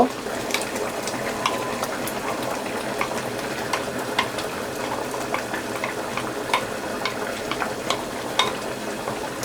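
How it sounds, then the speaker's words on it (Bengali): Chicken korma fries and bubbles in a pan with a steady close sizzle, and the stirring spoon adds frequent clicks and scrapes throughout. "একটু ভালো করে নেড়ে দিব"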